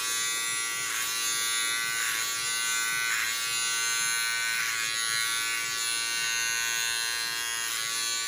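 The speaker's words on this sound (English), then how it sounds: "It's always handy to have clippers." Electric hair clippers buzz steadily through a home haircut, a close, continuous motor drone with slight dips as the blades move through hair, running alone without speech.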